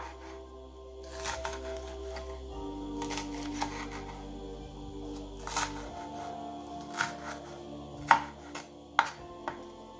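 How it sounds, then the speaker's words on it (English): A knife chops burrito ingredients into smaller pieces on a cutting board, giving soft irregular taps that sharpen into a few crisp knocks near the end, over a low steady background hum. "Then cut them into smaller pieces."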